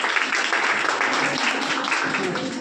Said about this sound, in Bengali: হাততালি দাও, হাততালি দাও। হাততালি দাও, হাততালি দাও।